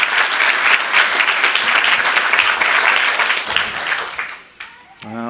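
Loud, sustained applause and clapping from an audience at a Burbank city council meeting, dense and continuous before tapering off at the end, with a few voices and cheers mixed in.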